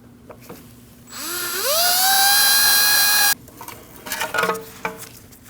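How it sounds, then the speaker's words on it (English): A high, whining power drill spins up with rising pitch, drilling out a heavily rusted pin in a Subaru front wheel hub, runs loud and steady for about two seconds, then cuts off, followed by metallic clinks. "so I'm just going to drill it out."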